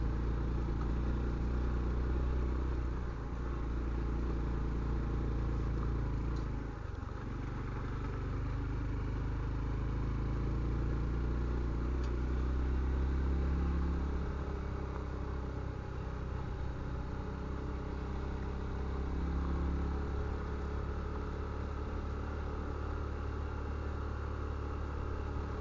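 A Honda Trail 125 (CT125) motorcycle climbs a mountain trail in the Mule Mountains of Arizona, its small single-cylinder engine droning steadily and close for the whole stretch, with wind rumble and no talk.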